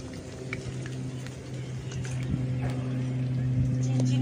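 Sweets made from flour and sugar frying in hot oil, a soft crackling sizzle with scattered small pops running steadily beneath a humming tone, with a person talking throughout.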